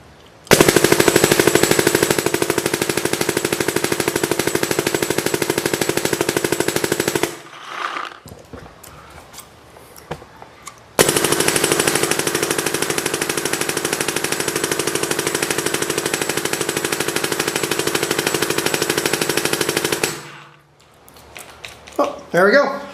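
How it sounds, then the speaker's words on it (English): A GI Milsim airsoft 50 cal toy gun shooting balls in two long, loud continuous bursts of rapid mechanical chattering, separated by a short pause, with a voice speaking in between and after. "see the little tiny balls coming out of the 50 cal gun"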